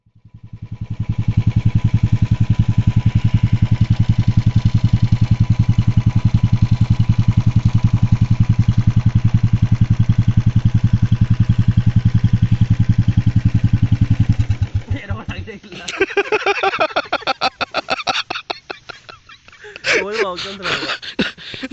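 A motorcycle engine drones loud and steady on a mountain road, then fades into rougher, uneven revving and wind noise near the end.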